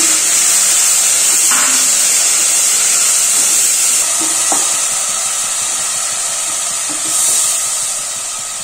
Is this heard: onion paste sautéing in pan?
yes